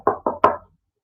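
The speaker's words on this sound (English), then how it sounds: "there came a knocking at the street door" Three firm knocks on a street door, close and evenly spaced, each a hollow wooden thud, followed by silence.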